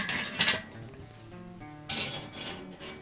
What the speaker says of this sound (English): let's go ahead and get this skillet onto the grill using direct heat.